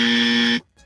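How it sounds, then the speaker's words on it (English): A loud, flat electronic buzzer sound effect used as a wrong-answer 'dummy' buzz, a single harsh tone lasting about half a second before cutting off abruptly. "Can we give him the dummy buzzer real quick?"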